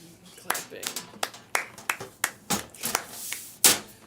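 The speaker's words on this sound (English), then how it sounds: "Clapping." Hands clap in a loose, uneven run of sharp, close slaps, about a dozen strikes over a few seconds, with faint talk in the background.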